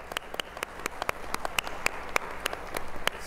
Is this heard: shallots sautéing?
no